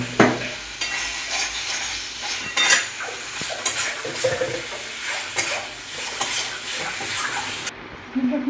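Boiled pointed gourd and potato go into a simmering vegetarian curry and are stirred, making repeated spoon scrapes and clanks against the pot over a soft bubbling sizzle, irregular and close.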